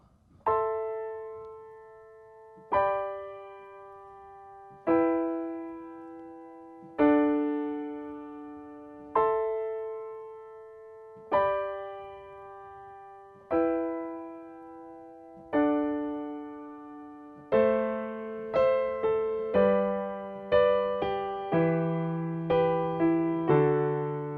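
Solo piano plays a song in an acoustic arrangement: slow, ringing chords that decay between strikes, then a busier, more rhythmic passage with a walking bass line.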